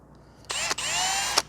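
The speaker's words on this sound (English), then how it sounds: "You can drill these fast or you can drill them slow." A power drill bores at slow speed into material for bolting wall plates to steel, running in two sustained close bursts with a brief dip between, ending in a short stop.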